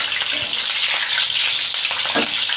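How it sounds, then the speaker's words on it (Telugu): Curry leaves, green chilies and cashews fry in hot oil for chicken pakodi, making a loud, steady, crackling sizzle with occasional stirring knocks and no speech. "కరివేపాకు, పచ్చిమిరకాయలు, కాస్త జీడిపప్పు వేసి వేయించుకోవాలన్నమాట"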